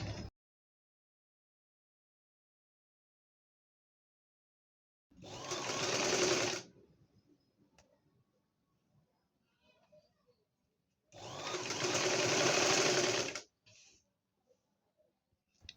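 A sewing machine gathers the lower fabric of a baby frock in two loud, close bursts of rapid whirring stitching, each lasting a couple of seconds, separated by near silence with faint handling noises.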